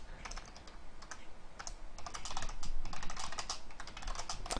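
Rapid typing on a computer keyboard while writing HTML, with a steady run of close, crisp key clicks that speed up and cluster into bursts, and no talking.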